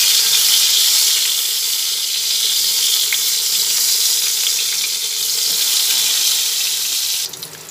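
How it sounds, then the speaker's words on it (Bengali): Eggplant pieces sizzle in hot oil for Bengali radhuni begun, a loud, continuous close-up crackle that drops away sharply near the end. "বেগুনগুলো একটা দিক উল্টে দিলাম, দিয়ে ভেজে নিলাম"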